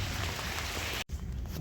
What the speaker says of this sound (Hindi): बारिश ऐसा लग रहा अब गिरा कि तब गिरा